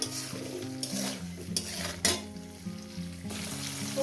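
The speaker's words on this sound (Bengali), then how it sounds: "পেঁয়াজকে সুন্দর করে আমি ভেজে নেব পোড়া পোড়া করবেন না" Onions frying in a pan for mutton curry give a steady hiss and sizzle, with intermittent stirring scrapes and utensil clinks, while a faint tonal hum runs underneath.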